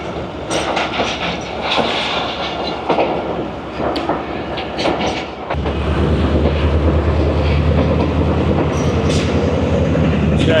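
A ZCU diesel locomotive hauling the Pak Business Express at Lahore station, at first a busy mix of rail clatter and platform noise, then a deep, steady engine rumble swelling loud and close and holding to the end.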